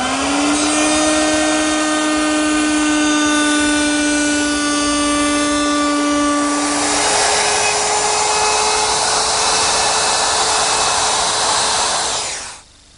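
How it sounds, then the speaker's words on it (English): A router at a router station spins a special bit that cuts a slot. It gives a loud, steady, close whine whose pitch shifts partway through as the cut changes, then quickly winds down at the end. "at our old router station, I've installed a special bit which will complete the slot"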